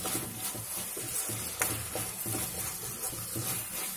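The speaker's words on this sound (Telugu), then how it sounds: "ఇప్పుడు ఒక గ్లాస్ వాటర్ వేసుకుందాం." A glass of water goes into a tomato curry sizzling in a pan with chilli powder, turmeric and salt. Soft stirring and scraping run over a continuous crackling fry, close and moderately quiet.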